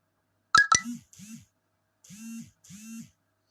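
A telephone rings, with two sharp electronic clicks followed by four short, evenly spaced warbling beep tones, clear and alone.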